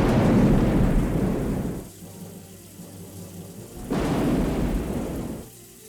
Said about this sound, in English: Soon enough, a big rainstorm was raging across the coast.